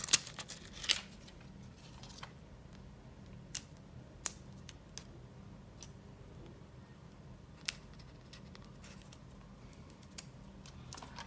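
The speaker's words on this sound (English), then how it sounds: "Let's get these stickers off." Protective stickers being peeled off a Xiaomi Poco F1 Armoured Edition phone, giving quiet close crackles and a few sharp ticks and taps scattered across a hushed room, with no talking.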